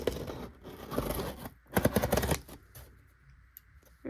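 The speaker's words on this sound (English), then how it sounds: "So I'm using these little sewing scissors." Small sewing scissors snip through packaging, with a few crisp cuts and scraping rustles close by, quiet overall.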